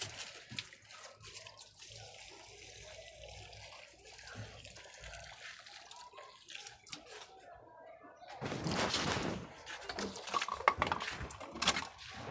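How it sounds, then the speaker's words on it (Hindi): Water poured from a filled container onto potted plants, a soft trickle and splash that grows louder and fuller toward the end, with faint background noise before. "मैं इनको पानी दे रही हूँ"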